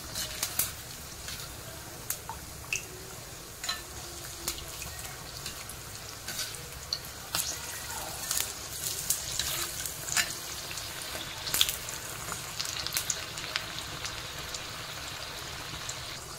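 Coriander fritters, kothimbir bhaji, frying in hot oil, giving a steady close sizzle with scattered pops and crackles throughout and faint clinks now and then.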